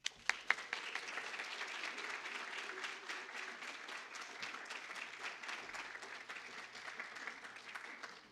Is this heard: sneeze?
no